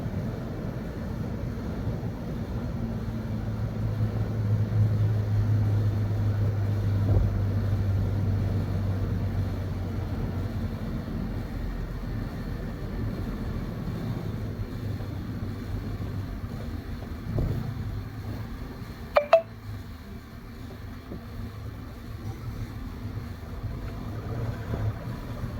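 A heavily loaded goods vehicle crawls along at low speed, its low engine drone steady and moderately quiet throughout, with a brief sharp click near the end.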